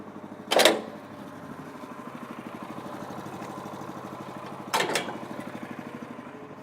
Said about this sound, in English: we'll start the machine, push the auto leveling function, which is the raise function, and the machine will level itself